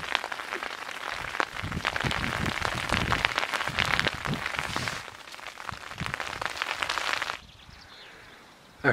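Steady rain patters densely on a hard surface outdoors during an evening on a road trip. The wash of sound holds for about seven seconds, then drops abruptly to quiet.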